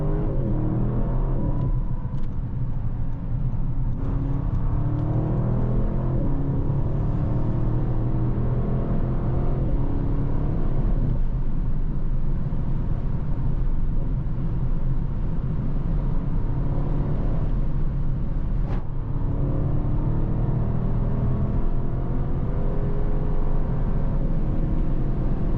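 A 630-horsepower Audi RS7 Performance accelerates at full power on the Autobahn, a deep engine drone and road rumble heard from inside the cabin, loud and continuous with shifting tones.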